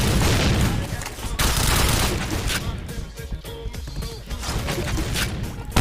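Rapid automatic gunfire and bursts of shots crackle through a PointBlank online shooter match, loud and busy with brief lulls, while a player talks excitedly over the action.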